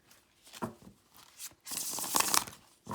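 A tarot deck shuffled by hand, its smooth cards sliding and riffling in a few soft papery bursts, the longest and loudest near the end, with no talk.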